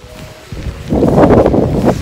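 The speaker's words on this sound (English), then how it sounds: "Yep, it's windy." Wind gusts on a rainy day on a university campus in British Columbia, rising into a loud, rushing buffet against the microphone after a quieter start.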